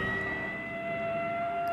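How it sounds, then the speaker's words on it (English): An ambulance siren wails steadily in a brief stretch, heard at moderate distance with faint background noise and no talk. "Oh, an ambulance."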